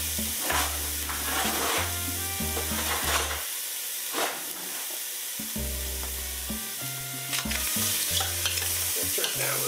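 Chorizo and smoked ham sizzle and crackle in a hot pot while being stirred for a Spanish bean soup, a steady, close frying hiss with a low tonal hum running underneath.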